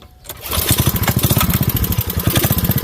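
Craftsman 5.0 riding lawn mower engine catching after a brief quiet start and settling into a loud, close, uneven chugging run, revving and surging as the throttle is worked.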